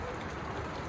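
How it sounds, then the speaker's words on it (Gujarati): Steady rain pours down in a Gujarati village yard after a hot sunny spell, a dense unbroken hiss of drops close by with no other sounds. "જો વરસાદ આવ્યો કેટલો"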